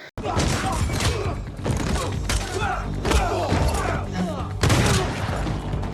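Loud bursts of gunfire in a film fight scene, with heavy thuds and impacts, dense and chaotic, mixed with other action sounds.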